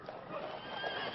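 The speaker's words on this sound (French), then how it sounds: "Ce sont les chevaux les plus puissants" Percheron draft horse neighing at an equestrian event, a brief whinny that is faint and somewhat distant.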